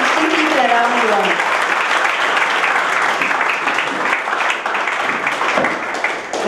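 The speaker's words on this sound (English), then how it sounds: "They deserve round of applause." Sustained audience applause fills a hall at an engineers' get-together and certification ceremony, loud and dense throughout, with voices mixed in early on.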